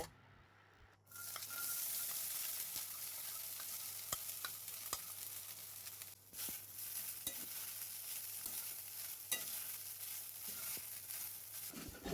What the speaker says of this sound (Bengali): কড়াই গরম করে এক চামচ ঘি দিলাম তিরিশ মিনিট পর ঢাকনাটা তুলে নিলাম এবার সাবুদানাগুলো হালকা করে ভেজে নেব